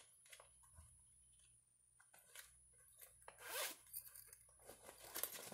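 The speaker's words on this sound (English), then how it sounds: "So when you open it, because there is a zipper" A few faint, short zipping rasps under soft handling noise, quiet and close, with no speech.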